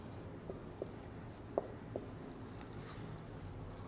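Writing on paper during a maths lesson, with a few soft scratches and taps from the pen over a quiet room hum.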